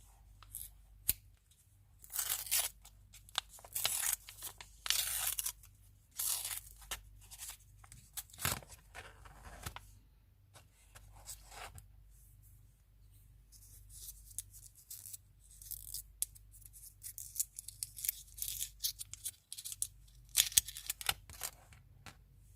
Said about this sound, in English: Let us open it.